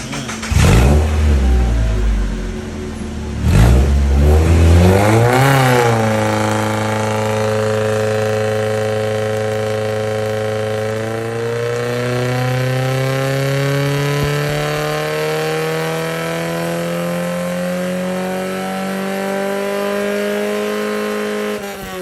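A Mazda Miata Spec Miata race car engine revs hard on a dynamometer, climbing steadily through the gears in a loud, sustained roar after a couple of quick throttle blips.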